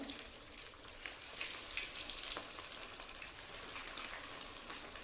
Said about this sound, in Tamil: ஸோ இதே மெத்தடில் எல்லா கட்லெட்டையுமே நம்ம பொரிச்சு எடுத்துடலாம்.